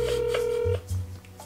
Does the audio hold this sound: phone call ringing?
yes